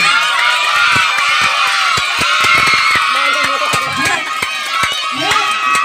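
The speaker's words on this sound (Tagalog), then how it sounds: "pumalakpak at sumisigaw" A birthday party crowd shouts, cheers and whoops in a dense, loud wash of voices, with sharp claps and children's cries cutting through continuously throughout.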